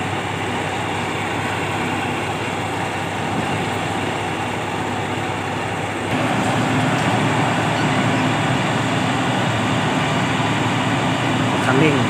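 A rice combine harvester with long tracks, its throttle held with a wrench, runs in a rice field with a steady, loud engine drone that grows heavier after mid-clip, with someone talking over it.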